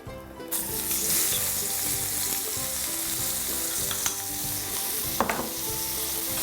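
Onion and cinnamon sticks sizzle steadily in hot oil with browned mutton for a curry, a continuous close frying hiss with occasional stirring clinks, no voices.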